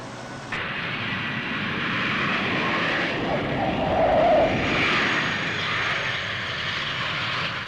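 A jet airplane roars steadily overhead near Tehran International Airport, a loud, broad engine rush that swells slightly in the middle of the passage and holds on without any voices.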